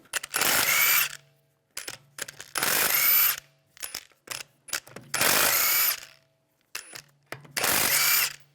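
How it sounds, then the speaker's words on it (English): Lug bolts being spun off a 2009-2013 BMW 328i xDrive wheel with a power tool and 17mm socket, five loud close bursts of whirring rattle separated by brief pauses. "Take the lug bolts out."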